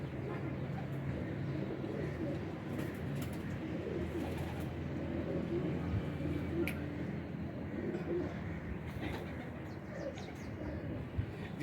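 Pigeons in a loft of about eighty birds coo softly and repeatedly, low throaty calls overlapping over a faint ambient hum, fairly quiet and continuous.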